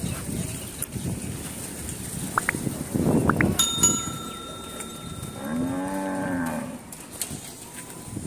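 At a cattle market in Hathazari, a single drawn-out cow moo rises out of the low market noise, close by, after a brief clatter and a thin whistling tone.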